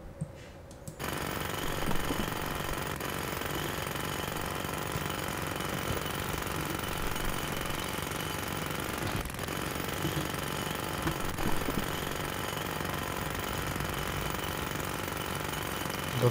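A jackhammer in the Demolition Company video game pounds steadily after a short quiet start, a dense, continuous rattling hammer that keeps up without pause.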